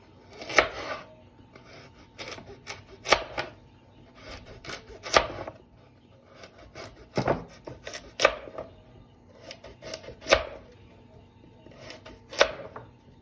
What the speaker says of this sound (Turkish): Havuçları doğrayacağım.